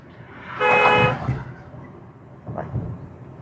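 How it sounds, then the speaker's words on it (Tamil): A single loud car horn honk, about half a second long, over the low rumble of a moving vehicle. "ஒரு தடவை ஹார்ன் அடிங்க"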